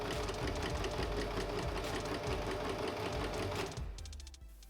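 A sewing machine runs steadily as it stitches a straight seam on fabric placed wrong sides together, stitching on the right side. The motor whirs loud and close without pause for nearly four seconds, then slows and fades at the end.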